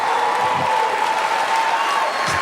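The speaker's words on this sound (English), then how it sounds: "You can stop clapping." Comedy show audience applauding for a live stand-up set, a dense steady wash of clapping with a little crowd noise, sustained and fairly loud throughout.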